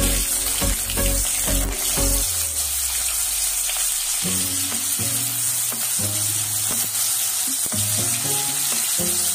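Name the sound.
bitter gourds frying in hot oil with asafoetida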